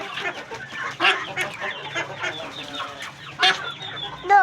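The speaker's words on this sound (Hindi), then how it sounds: "ये इन चारों डक से ना सबसे बड़ी इतना शोर मचा रही है।" Pet ducks, among rabbits and chicks, quack and squawk noisily in short irregular bursts at close range, with several sharper calls standing out over a busy farmyard background.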